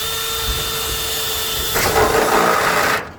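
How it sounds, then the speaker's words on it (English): A power drill whines steadily, then bites harder into rusted metal on a swamp cooler with a rougher, louder grinding before cutting off abruptly near the end. "we're going to use this drill bit to drill a hole"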